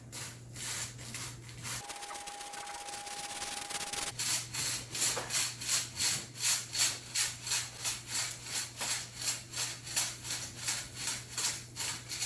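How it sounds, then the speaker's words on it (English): Dry baking ingredients (sugar, cocoa powder, salt and baking soda) are pushed through a sifter, giving a rhythmic scratchy rubbing with regular strokes at close range and no voices. "Sifting, in addition to mixing the ingredients together, gives me a chance to get any lumps that are out in the sugar or the cocoa powder."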